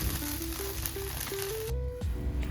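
Food pan-frying in oil gives a soft, steady sizzle and hiss, fairly quiet and continuous, with a faint tonal hum underneath.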